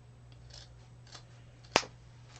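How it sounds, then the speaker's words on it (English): A single sharp snip of scissors cutting folded ribbon diagonally toward the corner to form a dovetail end for a patriotic mini wreath, heard alone against a quiet steady hum. "We're going to fold the ribbon with the pretty side out, okay, and we're going to cut diagonally towards the corner"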